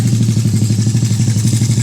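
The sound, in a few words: motorcycle with something catching on it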